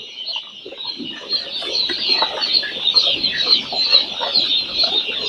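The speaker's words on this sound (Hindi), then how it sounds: "तो ये जो चूजा आया है हमारे पास इस बार" A large batch of newly arrived chicks from a research and breeding farm cheeps continuously, a dense, high-pitched chorus of many birds, loud and close.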